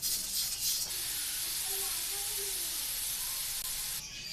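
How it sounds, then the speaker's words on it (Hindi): A pressure cooker of whole masoor dal vents its steam after twenty minutes of cooking, giving a continuous, fairly faint broadband hiss that holds steady for several seconds before easing off. "प्रेशर की हवा निकल जाएगी तो हम इसे खोल लेंगे"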